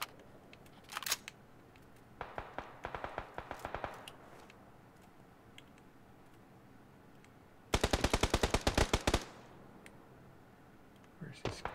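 Rapid automatic gunfire in a shooter video game, several separate bursts, the longest and loudest near the end, crisp and close over a quiet background.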